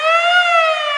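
A siren sound effect plays as one loud, steady wailing tone that rises and falls slightly over about a second, heard alone with no talk.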